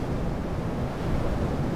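Steady roar of large ocean surf at Sual, Pangasinan, with wind rumbling against the microphone, no voices.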